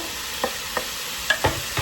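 Onion is stirred into ground beef in a multi-cooker, a constant low sizzle with a few sharp stirring scrapes spaced across it.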